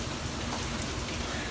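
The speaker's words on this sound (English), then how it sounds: "what do you know, it starts to rain." Steady rain falls outdoors in a dense, even hiss of drops spattering on surfaces, constant and moderately loud with no voices.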